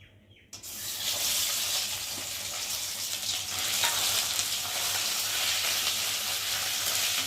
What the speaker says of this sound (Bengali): কড়াতে তেল দিয়েছি, আর এই তেলের উপরে এখন এই যে বাটাটা দিয়ে একটু ভালো করে নেড়ে চেড়ে দেবো।